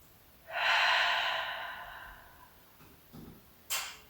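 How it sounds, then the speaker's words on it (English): One long, deep breath during a Pilates ballet stretch on a ladder barrel comes as a loud, close, breathy exhale lasting about two seconds and fading off, then a short shuffle and a brief sniff. "One last big breath here."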